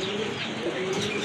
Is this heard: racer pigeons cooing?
yes